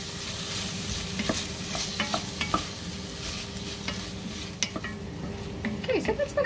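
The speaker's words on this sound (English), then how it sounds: "in goes the peppers or capsicum and the onion, as well as the garlic. So we're going to cook and stir this for maybe 4 or 5 minutes" Peppers, onion and garlic fry in a pan for low-carb ratatouille with Italian sausage: a steady close sizzle with repeated scraping and clinking stir strokes, louder toward the end, no voices.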